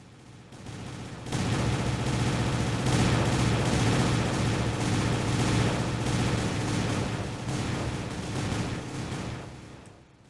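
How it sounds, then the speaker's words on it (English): A dynamite explosion in the video game Total Miner rumbles as a sustained, loud roar of crackling blasts lasting several seconds before fading away. "I'll keep going until this explosion finishes."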